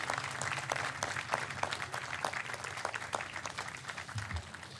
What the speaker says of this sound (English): please join me in a round of applause for these extraordinary individuals with us today